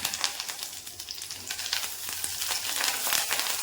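Curry leaves and small shallots sizzle and crackle steadily in hot oil, a dense close frying hiss with sharp pops scattered throughout, no voices.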